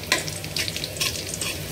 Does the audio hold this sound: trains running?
no